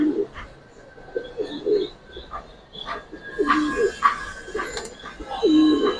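Giribaz pigeons, a pair of domestic birds, coo in soft, low repeated phrases from close by, with faint background noise and scattered clatter between the calls.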